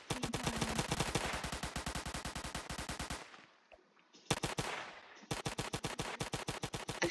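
Rapid automatic gunfire from the Roblox game Zombie Attack, long dense bursts of evenly spaced shots broken by a brief pause, loud and close with no talk.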